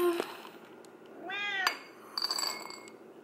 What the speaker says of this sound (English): He's been meowing at me all day long.